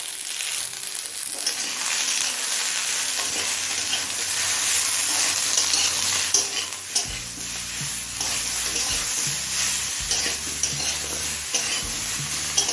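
Vegetables with green chillies, grated ginger, salt and turmeric stirred and fried over medium flame in a pan, giving a steady close sizzle with scraping stir strokes and clinks of the spoon against the pan throughout.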